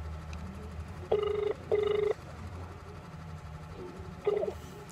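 An outgoing phone call rings back through the handset, giving two long rings close together and a shorter third ring after a pause, with a faint hiss between the rings.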